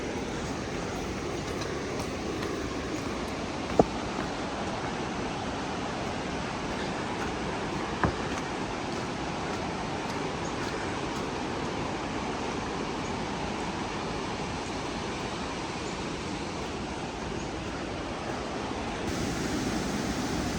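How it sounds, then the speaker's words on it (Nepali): A large mountain river in Sindhupalchok, Nepal, reached on a rainy trek, gives off a steady broadband roar of rushing water, unbroken and even throughout, with a couple of faint knocks. "हामी हिँड्दै ठुलो खोला पनि आइपुग्यो"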